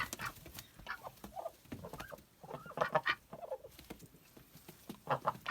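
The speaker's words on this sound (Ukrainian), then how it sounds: "Ось такі-то наші руанські качечки і качурик." Several Rouen ducks and a drake quack and chatter close by in irregular bursts, with soft clucking calls scattered between louder outbursts.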